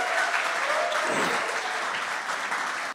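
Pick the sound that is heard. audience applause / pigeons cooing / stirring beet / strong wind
audience applause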